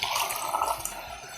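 Water splashes and trickles as soaked toor dal lentils and cumin seeds are washed, a brief close liquid swishing sound with no voices.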